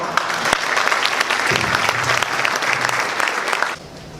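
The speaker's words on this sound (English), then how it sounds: "Please give him a round of applause." Audience applause at an annual men's honor gala, steady dense clapping from a large room that fades out near the end.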